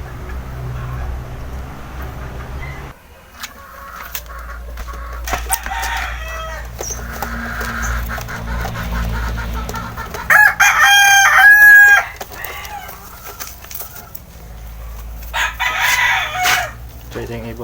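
A rooster crows loudly nearby, a long strained call over a steady background hum, with softer clucking and rustling around it.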